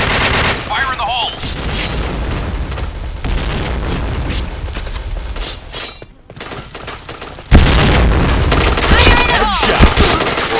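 Dense video game gunfire with rapid automatic bursts and heavy grenade blasts, loud and continuous, with shouted voice lines and player chatter over the combat.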